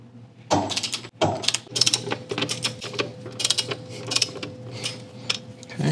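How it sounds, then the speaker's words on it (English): Wrench clicks and metallic ratcheting as motor bolts are loosened on a Onewheel S-Series electric board, rapid bursts of sharp close-up clicks over a steady low electrical hum. "We're gonna loosen up these bolts."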